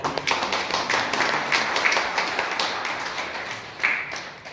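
Volunteers at a museum lecture on Indigenous people clap for themselves, a steady patter of moderate applause from a modest crowd lasting the whole span, slightly louder near the end.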